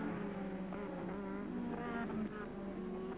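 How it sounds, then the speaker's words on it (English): McLaren Formula 1 car with a Porsche-built TAG V6 engine during 1986 Hungarian Grand Prix practice, a steady droning engine note with shifting harmonic whine held at constant loudness throughout. "here is Prost, just gradually and deliberately in the McLaren with the V6 tag engine designed and built by Porsche"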